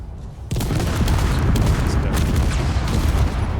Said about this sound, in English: the missile explosion noise is probably overriding